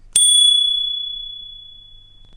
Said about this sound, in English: It was the soft ringing of little snowdrops